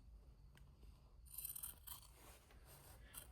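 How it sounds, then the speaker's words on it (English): Sharp scissors trimming fabric for a sewn zippered bag, giving soft close snipping and slicing sounds in a few short strokes, very quiet with no talking. "You definitely want a sharp pair of scissors."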